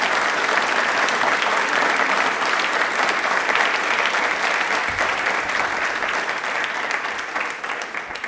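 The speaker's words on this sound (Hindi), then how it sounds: "दिल से एक बार जोरदार तालियां प्लीज।" A studio audience at a televised quiz on Indian Railways gives a long burst of loud, dense applause that fades slightly toward the end.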